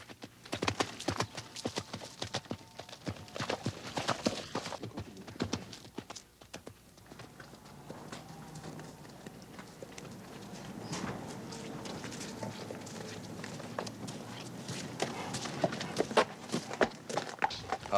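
A walking horse, steady hooves clip-clopping at an unhurried pace, near at first then softer, with a faint neigh in the background.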